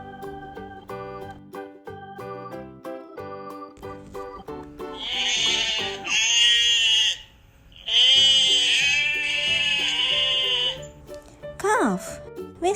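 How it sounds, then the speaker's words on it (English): Sheep and lamb bleating in alternating calls, loud and close, with wavering drawn-out cries; a voice speaks briefly before and between the calls. "Sheep and lamb."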